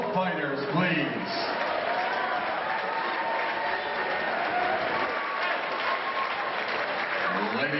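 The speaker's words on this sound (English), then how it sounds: "let's have a nice round of applause for both fighters, please" Crowd applause and cheering fill an MMA event hall after a bout, sustained and fairly distant, with a voice talking over the noise in places.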